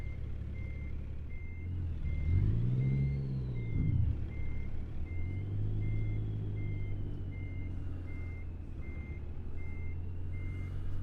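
Truck reversing alarm in American Truck Simulator, a steady evenly spaced series of beeps repeating through the whole stretch over a low rumbling diesel engine, with no talk.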